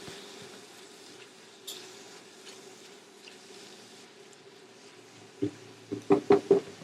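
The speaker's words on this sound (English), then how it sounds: "we are ready to give it one final mix" Vegan spaghetti sauce gets a last stir in a pan: a faint low simmer for several seconds, then a quick cluster of sharp spoon knocks and scrapes against the pan at the end, with no speech.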